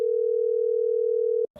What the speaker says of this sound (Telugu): ఫోన్ చేస్తున్నా నా ఫ్రెండ్.